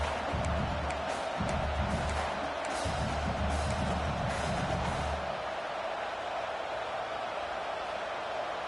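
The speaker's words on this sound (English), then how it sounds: "This crowd, full throat, spreading the eardrums and letting them know it's going to be a long day." A full-throated football stadium crowd roars steadily throughout, a dense, loud wall of cheering and noise that stays constant to the end, with low rumbles in the first half.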